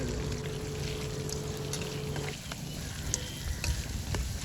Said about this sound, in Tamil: இப்போது நம்ம மசாலா போட்டு வச்சுருந்த காடையெல்லாம் எண்ணெய்க்குள்ளே போட்டுடலாம்